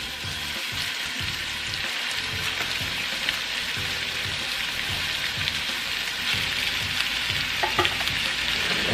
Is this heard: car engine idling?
no